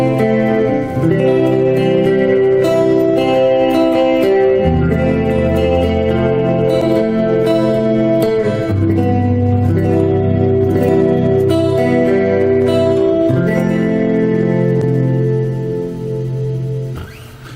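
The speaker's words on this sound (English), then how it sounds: "if I now go up to 7, you're going to see I've now got my chorus and reverb" Sustained electric guitar chords ring out with a shimmering chorus and lush reverb, changing every few seconds and washing into long decaying tails.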